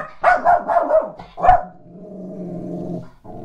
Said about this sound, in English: And a woofing dog.